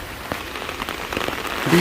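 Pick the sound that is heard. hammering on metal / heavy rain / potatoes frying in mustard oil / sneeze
heavy rain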